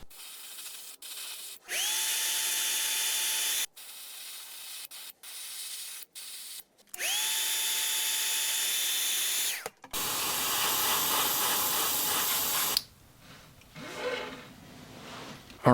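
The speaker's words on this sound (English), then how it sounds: "with the white still in the airbrush, I'm going to go ahead and repeat the same thing on the other side" An airbrush sprays white paint onto a resin swimbait lure in several steady hissing bursts of a few seconds each, separated by brief silences. The bursts are close, followed by rougher scuffing noises toward the end.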